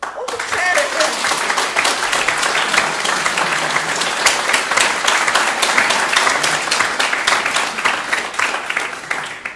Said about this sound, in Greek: καλά κάνετε και χειροκροτάτε